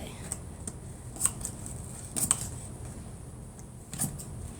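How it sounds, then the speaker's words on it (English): Scissors cutting upholstery fabric along the channel of a chair being reupholstered, giving several short crisp snips spread unevenly through the stretch against a quiet workshop background. "I'm just lining my scissors up right in this channel, and I'm taking it"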